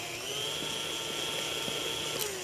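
An electric mixer whirs steadily through light pancake batter during a family brunch, giving a constant, fairly loud high-pitched motor drone with no voices over it.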